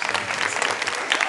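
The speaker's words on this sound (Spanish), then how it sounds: "Un aplauso para ti" Applause from the audience at a school graduation ceremony: a short, lively patter of many hands clapping, fairly loud and close, with slight crowd murmur beneath.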